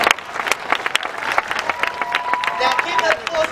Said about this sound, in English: Now keep that applause going for another friend of ours.